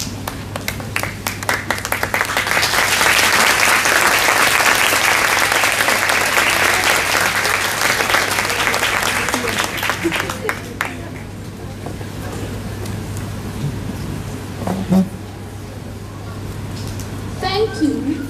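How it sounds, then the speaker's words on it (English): Sustained applause from a large crowd at a high school graduation ceremony as graduates stand to honour their parents, loud and dense for about ten seconds, then thinning into scattered claps and a low murmur with a steady hum beneath. "May I please invite the graduates to stand and give a round of applause to their parents."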